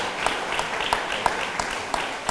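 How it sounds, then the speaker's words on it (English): Audience clapping for a commissioner at a sign-reveal event, a brief steady round of applause with some sharper individual claps standing out from the crowd. "So let's give our commissioner a round of applause for being here with us."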